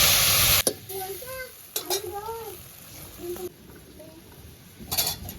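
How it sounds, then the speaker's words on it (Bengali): Water poured into a frying pan of broad beans and potatoes gives a loud burst of hissing sizzle at the start, then quieter bubbling and utensil sounds while a person talks. "বেশ খানিকটা পরিমাণ আমি জল দিয়ে দিয়েছি"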